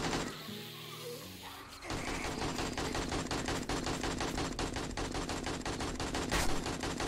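Rapid, sustained automatic gunfire in 7 Days to Die, loud and continuous after a short opening of other game sounds, with no talk.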